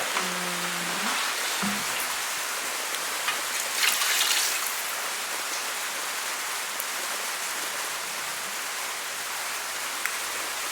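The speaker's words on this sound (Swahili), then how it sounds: "Na mvua ndio imepungua kidogo." Rain falls outdoors in an African village during cooking, an even, hissing patter that stays steady throughout, with a brief low tone near the start.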